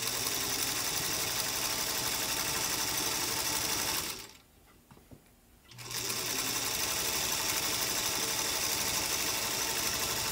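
A Singer Featherweight sewing machine stitching small stitches runs with a steady, close mechanical whir. It pauses briefly for about two seconds partway through, then resumes at the same even pace.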